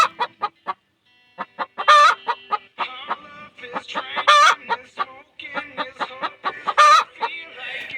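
A chicken clucks loudly and rapidly in short bursts, with a few drawn-out squawks mixed in, close and prominent over about eight seconds.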